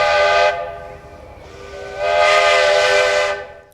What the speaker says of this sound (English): The identity of a locomotive lies in her whistle.